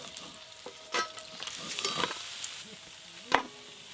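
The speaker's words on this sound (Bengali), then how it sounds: "পুঁটি মাছ তো ভাজতে খুব বেশি সময় লাগে না" Puti fish fry quietly in a pan with a soft, thin sizzle broken by a few sharp clinks and scrapes as they are turned.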